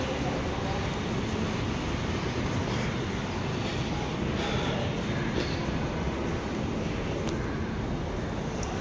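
Steady broadband rumble and hiss of a train running along the rails, continuous and fairly loud throughout with no clear voices.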